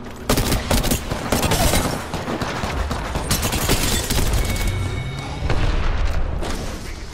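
Dense, loud gunfire in the Apex Legends battle royale, with bursts of automatic weapons and booming shots overlapping almost without pause from close range.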